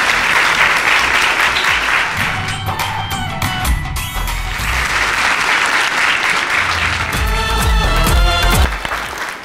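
A university campus crowd at URNI University bursts into loud sustained applause for a bhangra performance, dense clapping filling the whole stretch with occasional sharper bangs and a brief dip in the middle before swelling again.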